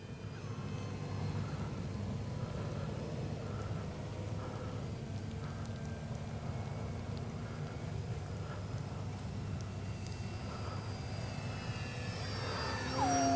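An Avios Kobuz 2.2 m RC power glider on its maiden flight, its motor giving a steady airborne drone that holds at the same level throughout and swells slightly near the end, with no talk.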